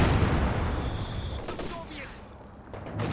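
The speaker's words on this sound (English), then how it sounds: "Nice close range Katyusha action there." A Katyusha rocket artillery volley in Company of Heroes 2 comes as loud, dense rumbling blasts with scattered whooshing rockets and cracks, falling off into quieter booms toward the end.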